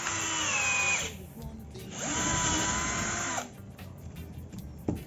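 A cordless drill with a larger bit cuts a countersink recess, whining loudly in two long bursts separated by a short pause, then stopping and leaving a few light clicks and handling noises.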